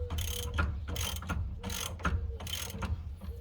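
A ratchet socket wrench clicks in quick bursts of strokes while tightening the steering wheel hub on a Can-Am X3, close and fairly quiet, with short pauses between swings.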